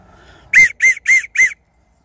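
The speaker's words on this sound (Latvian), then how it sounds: "katram tētim ir priekš saviem bērniem ir vismaz vienu reizi mūžā jāuztais tādu svilpīti" Homemade willow bark whistle blown in four short, shrill, evenly spaced toots, loud and close, after a moment of quiet.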